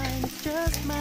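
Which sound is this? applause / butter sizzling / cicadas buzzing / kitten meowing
butter sizzling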